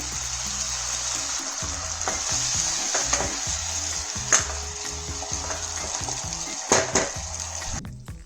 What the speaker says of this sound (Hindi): अब इसमें डालेंगे थोड़ा सा पानी